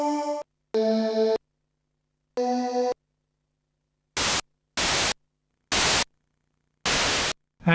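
A Kawai K1 II synthesizer's white noise waveform, played as four separate hissing bursts of broadband static, each held for under a second, after three pitched synth notes, close and clean.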